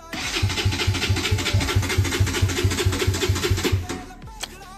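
A crashed Ninja 300 sports bike is cranked by its starter: rapid, even chugging pulses repeat for about four seconds, then the engine cuts out without catching and goes quiet.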